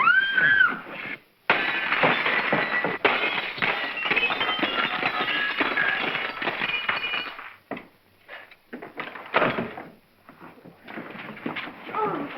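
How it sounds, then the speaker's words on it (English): Glass breaking and clinking in a door during a 1941 comedy film scene, a sustained crash and scattering of shards lasting several seconds, followed by scattered smaller clinks and brief bursts of noise. "May I suggest, sir, that you break the glass?"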